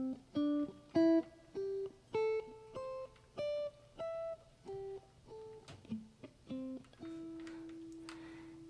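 Guitar notes fretted by a weak left hand, a quiet series of roughly a dozen picked tones that cut off short and sound dull and muted, with a few buzzy, faint notes near the end; no talking.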